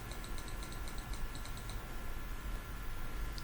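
Keys are pressed on a computer keyboard, a quick run of light taps followed by a single later click, over a steady background hum.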